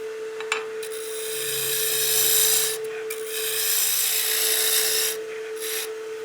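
A lathe tool tapers a spinning wooden baseball bat with rasping, scraping cuts in several bursts over a steady motor hum, close and fairly loud, broken by short pauses.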